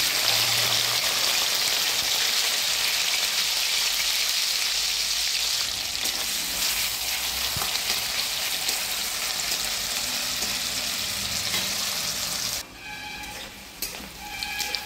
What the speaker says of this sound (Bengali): এবার আমি পেঁয়াজগুলো ভেজে নেব।